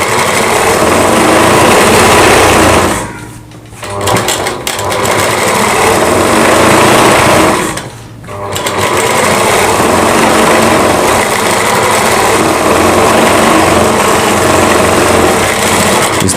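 Sewing machine runs in fast, loud buzzing bursts while stitching a Rajputi suit, with two brief pauses breaking the continuous mechanical whir.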